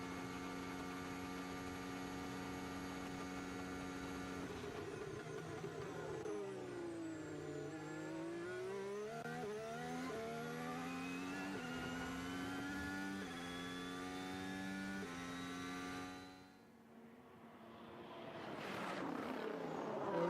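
A Formula 1 car at Bahrain testing accelerates hard out of the final corner, its engine note climbing steadily through the gears, loud and sustained, before a brief dip and a fresh rise.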